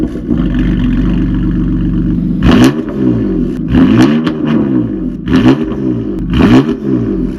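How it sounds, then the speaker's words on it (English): A loud, raspy BMW F80 M3 exhaust with S55 engine and downpipe idles and revs in repeated blips, rumbling up close, with a faint high turbo whistle rising on the revs. "I love the sound of this S55, and you can kind of hear the turbo whistle as well"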